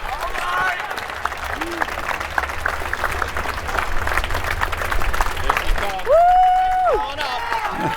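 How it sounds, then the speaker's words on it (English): A live audience at an Xbox E3 show claps and cheers steadily, with a few whoops and a rising whistle near the end. "Keep that applause going for the long walk to the stage."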